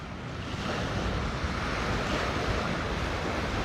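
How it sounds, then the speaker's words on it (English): Ocean surf rolling onto Lanikai Beach, Oahu, at sunrise, a steady close wash of breaking waves with wind buffeting the microphone and no voices. "you're just standing this close to these waves"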